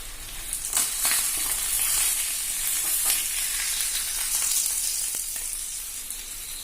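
Kerala-style fish fry crackles in hot oil as a continuous, moderately loud sizzle, with occasional sharper pops and stirring clicks.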